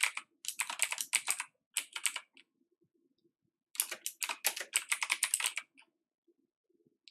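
Keys clatter on a computer keyboard in two quick, close bursts of typing. A pause with a few stray taps separates them, and no voices are heard.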